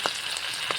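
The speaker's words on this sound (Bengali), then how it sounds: "হলুদ দিয়ে চিংড়ি মাছের মাথাগুলো ভালোভাবে ভেজে নেব।" Prawn heads fry in oil with turmeric in a wok, a short close sizzle with two quick soft scraping touches at the start and end.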